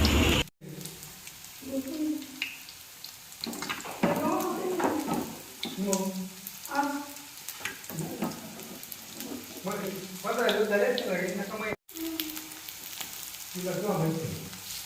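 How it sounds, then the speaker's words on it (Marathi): Vadas made from phang leaves frying in oil in a pan, with a steady close sizzle and crackle underneath and a voice talking over most of it. "आता उलट सुलट करत राहायचं आहे मध्ये मध्ये म्हणजे ते छान असे फ्राय होत आहे"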